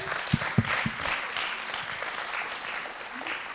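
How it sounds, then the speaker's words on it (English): Applause for a film's cast and crew at a screening Q&A, an audience clapping warmly in a steady patter after a few louder claps at the start, with faint murmurs beneath. "Can we have another round of applause for our talented cast and crew?"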